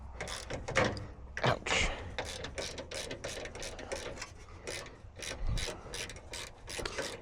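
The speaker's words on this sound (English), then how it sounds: "Does this break my ratchet? My Harbor Freight ratchet." A Harbor Freight ratchet works on the hood latch of a 1976 Ford Ranger, giving a close, steady run of rasping clicks and scraping metal, with one brief spoken exclamation.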